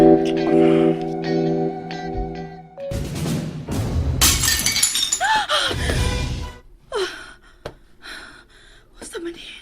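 A drinking glass shatters with a bright, loud crash of breaking fragments in the middle of the clip, surrounded by gasps, excited voices and earlier electronic tones.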